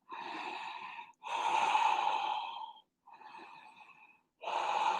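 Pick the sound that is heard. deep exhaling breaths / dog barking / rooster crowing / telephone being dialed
deep exhaling breaths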